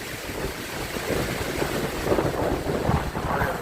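Strong gusting wind on a stormy Halloween night roars across the microphone in a continuous broadband rush, swelling and surging in uneven bursts.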